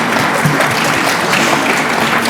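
An audience claps steadily and densely for a couple of seconds, a loud, even wash of applause from a full room with no voices.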